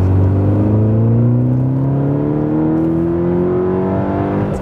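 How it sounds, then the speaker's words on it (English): A 2014 MK6 VW GTI pulls hard under acceleration, with the engine note and exhaust drone rising steadily in pitch. It is loud, close and continuous, with no talking. "I just don't like the sound of this exhaust."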